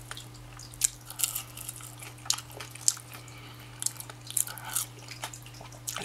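Someone eats a veggie burger with fries, with wet chewing, squishing and occasional crisp crunches from bread and fries repeating close to the mic over a steady low hum, with no talking.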